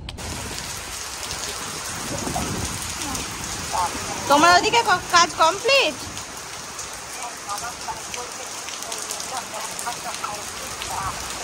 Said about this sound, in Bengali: দেখো কি সুন্দর বৃষ্টি আসলো, রোদ রয়েছে, এদিকে বৃষ্টি হচ্ছে।